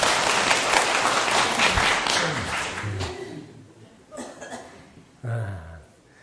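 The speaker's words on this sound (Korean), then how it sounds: "박수 한번 주세요" A lecture audience at a Buddhist dharma talk claps for a few seconds, the applause tapering off into scattered coughs, throat clearing and small murmurs.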